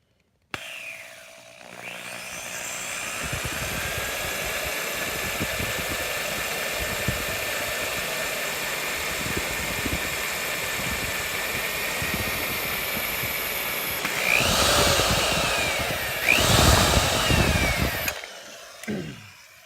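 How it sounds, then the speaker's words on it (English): Power drill boring into a GT1 coolant pipe to make a hole for an M4 tap, a steady close whine running continuously for most of the clip, rising in intensity near the end as the bit breaks through before stopping. "we're going to set that drill down on there"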